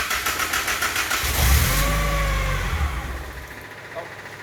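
Datsun 510 with a swapped SR20DET engine cranking and firing up, then running loud and close with a rough, throbbing idle that settles slightly toward the end.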